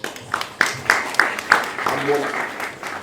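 An awards-night crowd applauds with scattered claps and cheering, a few louder hand claps standing out, while voices carry on underneath.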